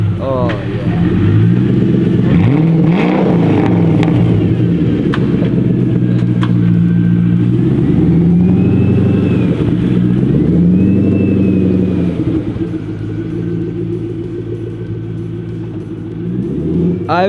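A 2005 Ford GT's engine running just after startup, a loud deep rumbling idle close by with occasional revs rising and falling, people talking over it.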